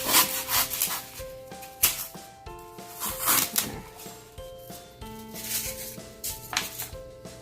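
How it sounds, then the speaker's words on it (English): A butter knife saws through craft foam for a moss topiary, giving repeated scratchy rubbing strokes, close and moderately loud, with faint background music underneath. "So I'm just taking a butter knife and I'm just going to cut right"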